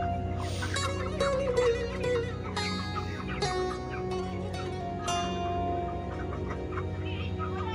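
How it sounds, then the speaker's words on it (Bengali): Chickens of unusual colours on a poultry farm with dry, well-kept litter, their clucks and calls overlapping steadily and loudly throughout, with other sounds in the house mixed in. "ফার্মের মধ্যে কিছু ইউনিক কালারের মুরগি আছে।"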